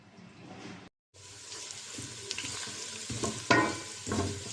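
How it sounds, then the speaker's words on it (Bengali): Chopped onion and green chili sizzle in a pan as they fry for a winter vegetable dish, with stirring scrapes and bursts of crackle after a short silent gap near the start. "পেঁয়াজ কুচি দিয়ে দিয়েছি কাঁচামরিচ এটা এখন আমি ভেজে নেব"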